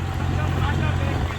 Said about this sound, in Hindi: ये लो के तीसरे गियर में चल रहा है भाइयों ट्रैक्टर